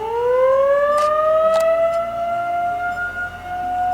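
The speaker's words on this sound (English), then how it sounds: "you hear the storm siren just started going off" A loud storm warning siren in Tennessee wails steadily, its tone slowly rising and holding, with a few brief clicks or bangs mixed in.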